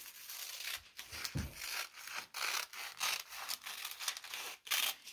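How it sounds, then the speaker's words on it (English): Scissors cutting a heart shape out of paper, with repeated soft rubbing and snipping strokes, close and fairly quiet, with no voices. "Then take your scissors and you can cut out your heart shape."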